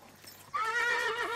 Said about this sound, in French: Le premier rituel du matin, c'est le petit déjeuner des chevaux.